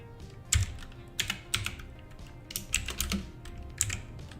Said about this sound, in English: It came with a keyboard that's pretty clicky.